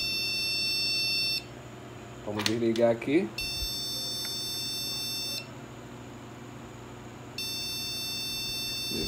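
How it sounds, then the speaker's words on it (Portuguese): A computer motherboard beeps during a power-on test after being washed with neutral soap, giving long, steady high-pitched tones that switch off and on, with a short burst of speech between them. "já ligou e continua bipando"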